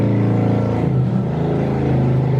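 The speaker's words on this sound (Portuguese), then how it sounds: "Vou esperar passar a moto aqui." A motorcycle engine drones steadily and loudly up close as it passes, its low hum holding for a couple of seconds with slight rises in pitch.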